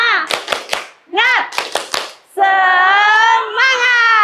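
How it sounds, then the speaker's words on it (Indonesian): Kindergarten children do the rhythmic 'tepuk semangat' clap in a classroom, quick claps in short groups chanted along with children's voices, followed by a sustained group shout. "ayo sekarang kita tepuk semangat dulu ya"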